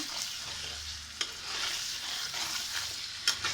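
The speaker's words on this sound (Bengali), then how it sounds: "সাদা তেল অ্যাড করে দিচ্ছি পরিমাণ মতো এটাকে সুন্দর করে মিশিয়ে দিচ্ছি" Masala for shorshe ilish (hilsa in mustard) being mixed in a pan after white oil is added, a soft low sizzle with a few sharp spoon scrapes.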